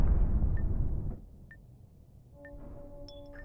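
A grenade detonates in the online shooter APB Reloaded: a loud, broad blast that decays over about a second, followed by quieter game ambience with a few short tonal blips.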